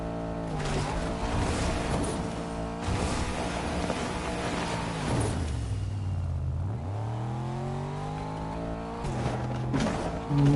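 A car engine drives in a video game, revving and shifting through gears with rising and falling whines, loud and continuous with brief drops between accelerations.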